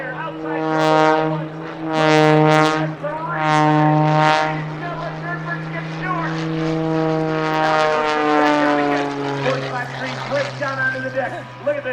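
A specially modified Pitts aerobatic biplane performing at an air show, its propeller engine droning loudly with rising and falling pitch as it swoops and maneuvers nearby, steady and powerful across the whole stretch.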